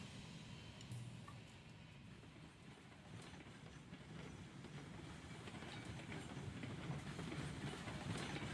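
Train running in the Railroads Online video game, a continuous low rumble of rolling wagons with faint rhythmic wheel clatter, growing slightly louder toward the end, no voices.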